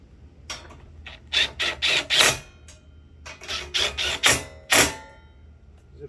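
A ratchet wrench runs exhaust bolts back into a Kohler Courage engine on a Cub Cadet mower, giving short close bursts of rapid clicking in two groups separated by a brief pause.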